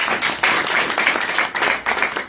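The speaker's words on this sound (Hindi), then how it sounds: "इनके जोरदार ताली बजाने के लिए" A crowd at a Hindi-language political gathering applauds loudly as guests are welcomed, with dense, continuous hand-clapping and a few louder bursts throughout.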